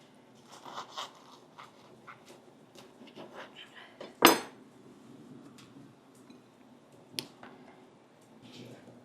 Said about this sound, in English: Let me cut one open and we'll take a look at the inside.